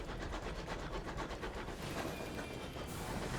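A train in Sunless Skies rumbles along with a steady, rhythmic clatter, low and continuous, with a calm, even pace and no voices.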